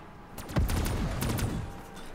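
Gunfire in the video game Black Ops 3 Zombies, a short dense burst of repeated shots that sounds loud and close for about two seconds, with no talk over it.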